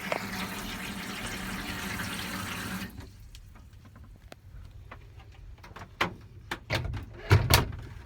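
Hot and cold water runs from the shower in a 2005 VW T4 Autosleeper Gatcombe campervan as a steady hiss that stops after about three seconds, followed by scattered drips, clicks and knocks.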